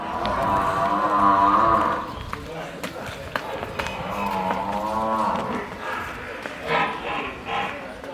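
A Murrah buffalo lets out long, deep moos close by, with a second lowing call a few seconds later. People talk and bustle in the background.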